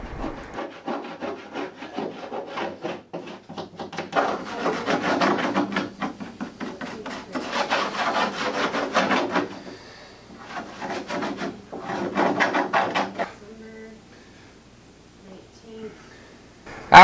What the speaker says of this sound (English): After spreading the glue around with my little glue brush